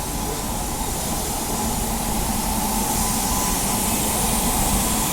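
A freight train hauled by two different locomotives passes on the right, coming from New Delhi, and fills the air with a loud, continuous roar and broad hissing rush of wagons rolling by.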